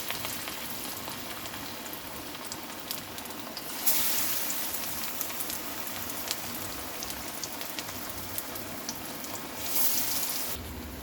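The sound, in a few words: frying food in hot oil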